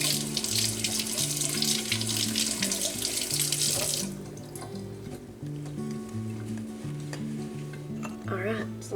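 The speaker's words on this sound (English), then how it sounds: "Wash the eggs real quick." Eggs are rinsed under a running kitchen tap, with a loud splashing stream for about four seconds, then quieter trickling and handling sounds with light background music.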